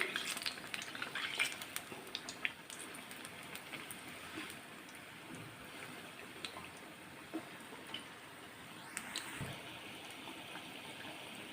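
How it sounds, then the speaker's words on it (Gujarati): Bhajiya fritters fry in hot oil and are turned over with a spoon. A faint, steady sizzle runs throughout, broken by occasional soft scrapes and taps. "તો હવે આપણે હળવા તે ચમચીની મદદથી આ રીતે ભજીયાને પલટાવી લઈશું"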